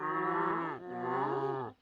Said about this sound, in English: No, they actually said moo.